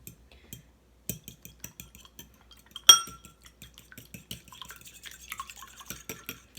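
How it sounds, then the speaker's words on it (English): Eggs being beaten in a bowl: quick, rhythmic clinks and taps of a utensil against the dish, close and fairly quiet, with one louder clink partway through and no talk. "And then you're gonna beat your eggs."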